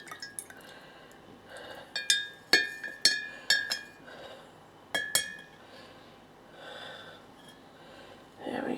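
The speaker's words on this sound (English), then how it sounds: "Let's just give them a little stir." Kefir grains are stirred in a glass with a plastic utensil, producing a run of close, bright clinks and taps against the glass amid soft liquid swishes, with quiet pauses between strokes.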